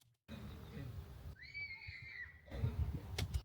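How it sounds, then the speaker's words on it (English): A scream sound effect with its volume pulled down during editing plays softly in the middle, a thin rising-and-falling wail sitting beneath surrounding talk. "So we can actually bring that scream right down."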